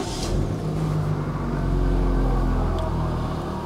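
A 2012 Daihatsu Sirion with automatic transmission starts, its engine catching and settling into a steady low idle rumble, close and alone without speech.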